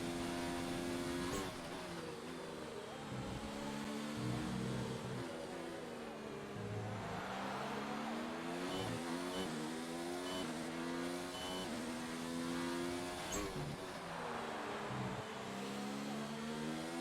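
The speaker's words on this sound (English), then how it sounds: "There's a Ferrari coming." Formula 1 video game engine drone, a Ferrari F1 car approaching, with high harmonic whine rising and falling through gear changes, sustained and fairly faint throughout.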